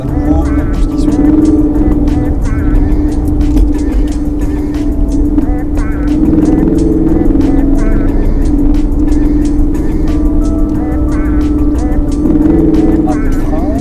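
A race car engine on a circuit under applied throttle, a loud continuous droning roar heard close from inside, with a steady pitch and a voice talking over it.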